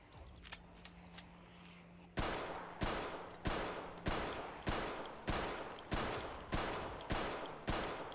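Gunfire into a zombie mob in Project Zomboid: after a quiet stretch of faint clicks, about ten loud, evenly spaced shots ring out one after another, each with a short decaying tail.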